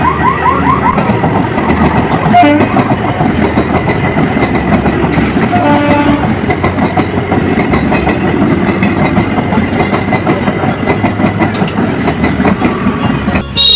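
A train passes a railway level crossing close by, with a loud continuous rumble and rhythmic wheel clatter throughout and a brief tonal horn-like sound partway through.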